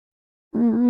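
A voice lets out a drawn-out, wavering yowl in imitation of a cat in heat, starting abruptly after a moment of silence.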